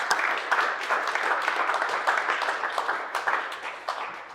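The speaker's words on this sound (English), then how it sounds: "And again, give Matt a round of applause because he prepared that logo." Team members applaud at an all-staff meeting, giving steady, moderately loud clapping from a small group that thins slightly toward the end, with no talk over it.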